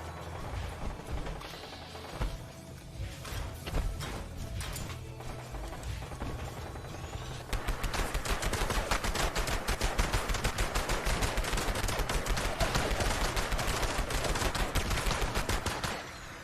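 Rapid automatic gunfire from an electrified weapon in the Fallout 76 video game, loud and continuous over the second half after scattered earlier shots, with mechanical clicks and game sounds and no talk.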